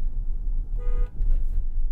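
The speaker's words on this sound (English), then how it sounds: "Okay, very authoritative car horn." Horn of a 2024 Toyota Grand Highlander, a single steady honk of about a third of a second over low road rumble, loud and close.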